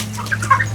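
Farm chickens being caught by hand and crated for harvest give short, agitated clucks over a steady low hum, close and fairly loud.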